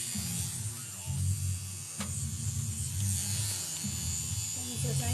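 A tattoo machine with a needle cartridge fitted runs as a steady low electric buzz that carries through the whole stretch, with a voice talking briefly over it.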